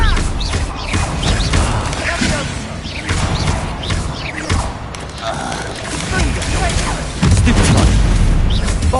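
Bombarda explosion spell cast in Hogwarts Legacy, a dense barrage of booming blasts and crashing impacts that stays loud throughout, with voices talking over the combat.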